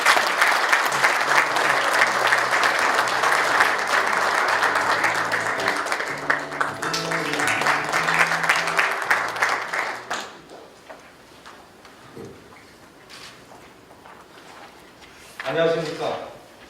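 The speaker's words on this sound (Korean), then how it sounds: "큰 박수로" Loud, sustained applause from a large audience at the founding ceremony of a Korean defense research forum, filling the first ten seconds before fading to quiet room noise and a brief final burst of clapping.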